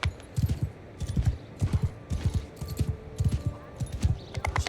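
A horse's hooves clip-clop in a steady, even rhythm through a village in Mount and Blade 2 Bannerlord, a close, moderately loud gait with occasional faint metallic jingles.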